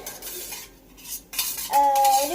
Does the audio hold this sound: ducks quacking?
no